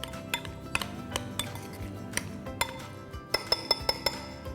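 A spoon stirs salsa mixed with ketchup and chili sauce in a bowl, producing a string of light clinks against the dish that come quicker near the end.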